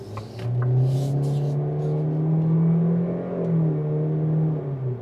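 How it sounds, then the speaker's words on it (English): A 2027 Kia Seltos S accelerates under throttle, its CVT transmission producing a steady, droning engine tone that rises slightly and holds, heard from inside the cabin with faint clicks early on. "So it does have that droniness from a CVT transmission."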